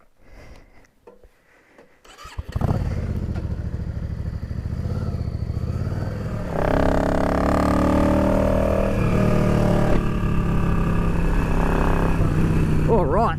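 A motorcycle fitted with Mikuni velocity stacks, a crankcase breather and re-jetted carburetion cranks and fires up after quiet handling noises, then settles into a loud, steady idle that climbs into a higher-revving drone, with a voice talking over it.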